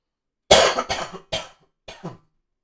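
A person coughs in a quick burst of several hacking coughs, then two more after a brief pause, close and fairly loud.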